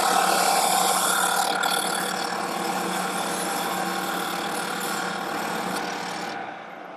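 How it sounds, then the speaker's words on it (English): Drum sander grinding wood from the corners of a pine medicine cabinet, a continuous rough abrasive roar that holds steady before cutting off near the end. "I'll just take my drum sander and remove the material"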